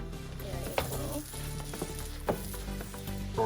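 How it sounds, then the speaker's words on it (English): Half an onion sautés in a pan for a cheesy veggie omelette, giving a continuous sizzle with a few sharp clinks and scrapes from stirring. "So you need to saute the onion half because we're gonna do 2 batch"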